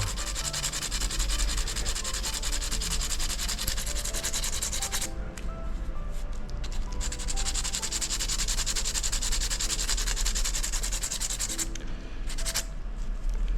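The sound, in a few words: hand sanding with sandpaper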